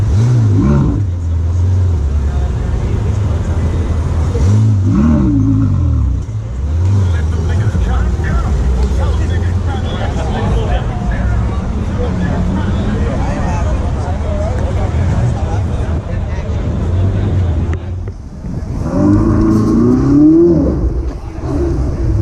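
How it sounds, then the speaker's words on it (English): A yellow Ferrari engine revs loudly in repeated rising and falling bursts, close by, with people talking over and between the revs. "Got the Ferrari out here."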